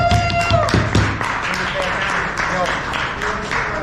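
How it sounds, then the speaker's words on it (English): A room of attendees at a Town of Cheektowaga neighborhood watch meeting gives a round of applause, steady clapping filling the space for a few seconds with murmured voices and chatter mixed in underneath. "let's give a big round of applause."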